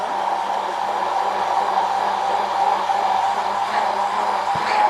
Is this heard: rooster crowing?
no